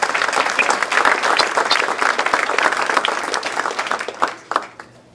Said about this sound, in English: I would love for everyone to give him a round of applause